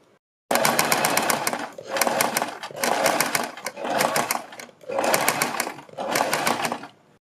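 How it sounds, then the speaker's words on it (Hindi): An electric sewing machine stitches a kurti neckline in six loud, close bursts of rapid, rattling needle strokes, each lasting about a second, separated by short pauses. "पहले हम यहाँ से सिलाई लगानी शुरू करेंगे, यहाँ तक लगा देंगे"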